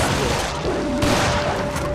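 Dense bursts of gunfire and booms from the video game Resident Evil: Revelations in a chaotic, continuous din, loud and close, with a faint voice partly buried underneath.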